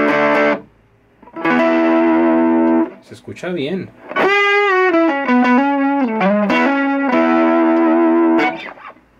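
Electric guitar played with overdrive distortion cranked to maximum through a small practice amplifier: sustained gritty chords and a run of single notes, loud and close, with a brief spoken remark in between.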